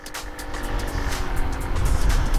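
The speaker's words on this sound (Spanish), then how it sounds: "vamos a hacer la prueba de aceleración máxima" A Zanella Styler 150 scooter accelerating at full throttle: a close, steady engine drone that grows louder over a few seconds, mixed with rushing wind and road rumble, with no voices.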